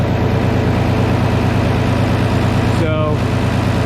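A Minneapolis Moline A4T tractor engine idles in a shop after repair, a steady low rhythmic chugging held evenly throughout, loud and close.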